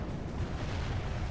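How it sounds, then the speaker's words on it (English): Artillery pounding an enemy general's position in a Medieval 2: Total War battle, a dense, continuous rumbling roar of distant blasts with no distinct separate booms. "Enemy general is getting pounded with artillery"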